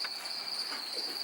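Crickets on a cricket farm chirp in a constant high shrill trill, steady and fairly close, with no voices over it.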